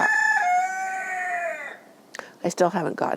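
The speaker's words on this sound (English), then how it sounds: "My neighbor's rooster starts crowing, and then he thinks he has to answer." A rooster lets out one long, loud crow nearby, then a person starts talking just after it ends.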